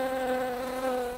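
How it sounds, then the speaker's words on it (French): Bee buzzing as it flies past, a thin steady whining hum with a clear drone tone, faint and alone for about a second. "il y a une abeille qui vient de traverser mon jardin"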